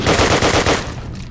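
A machine gun in Call of Duty 1 rattles off a rapid, loud burst of close shots lasting just under a second, then cuts off into a fading tail.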